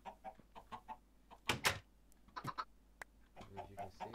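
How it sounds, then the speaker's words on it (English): Chickens cluck in bursts on a chicken farm in the Minecraft video game, short repeated calls with a few louder squawks, fairly quiet and close. "now let's see how our chicken farm is doing."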